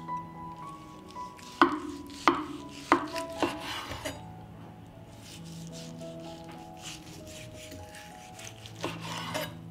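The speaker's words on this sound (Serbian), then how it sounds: "Dok čekam da voda proključa, iseći ću jednu dimljenu butkicu." A knife chops through a smoked chicken drumstick on a board in a home kitchen, giving four sharp, evenly spaced thwacks followed by a few softer cuts and a late knock over a low background hum.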